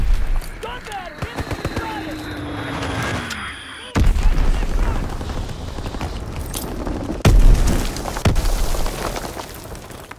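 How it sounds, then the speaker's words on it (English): Heavy Azon bomb blasts in Call of Duty WWII, two deep booming bursts hitting loud and close amid a steady backdrop of rattling gunfire and battlefield noise. "Dropping Azon bomb."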